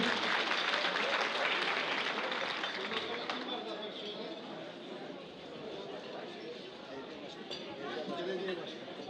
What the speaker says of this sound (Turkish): Yüksek alkışlarımızla Hasan Coşkun.